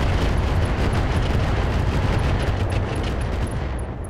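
Rockets firing in the mech game Roguetech, a dense, loud continuous roar of rapid launches and blasts with faint high chirps, sustained for several seconds before easing slightly.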